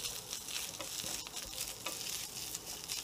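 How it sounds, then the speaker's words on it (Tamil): Grated coconut roasting in a hot pan for an Onam festival lunch dish, a steady close crackle and sizzle with occasional stirring scrapes throughout. "இப்போ வந்து தேங்காய் ஒரு ரெண்டு டேபிள் ஸ்பூன் அளவு நல்லா செவக்க வறுக்கணும்."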